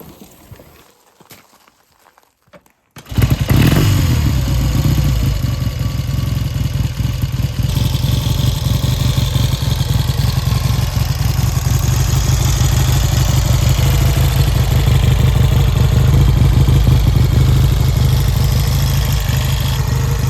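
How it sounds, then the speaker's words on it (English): A 1967 Triumph T100C motorcycle on fresh knobby tires fires up after a few seconds of quiet, then runs loud and close in a steady, throbbing idle until the end. "we got a running bike with fresh tires on it"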